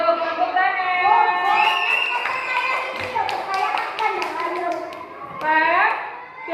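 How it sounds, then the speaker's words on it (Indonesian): Children in a classroom clap their hands together in a short burst of sharp claps, mixed with a steady stream of children's voices singing and chattering over them. "Tepuk tangan."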